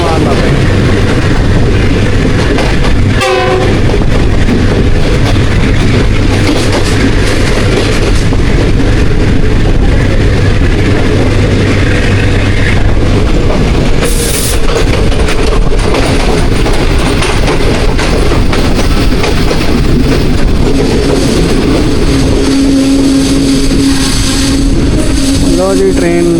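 Green Line Express, a Pakistani passenger train on the Islamabad–Karachi route, hauled by a locomotive attached at Lahore, heard from onboard: a loud, continuous rail roar with clattering wheels, plus a steady hum and occasional voices in the carriage.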